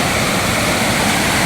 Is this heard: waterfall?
yes